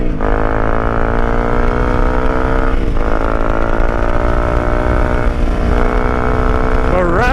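Honda CRF 250 dirt bike engine revving hard and steady up close, with rising pitch and brief dips between gear shifts, loud and continuous for several seconds.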